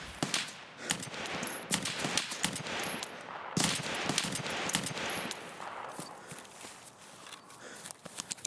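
Rifle fire in a video game as recoil is tested with a stock: sharp, fairly faint shots in irregular bursts and single cracks, some close together, with soft game ambience between.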